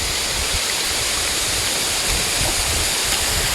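A waterfall near Deem village roars with a steady, dense rush of falling water that fills the whole scene without a break.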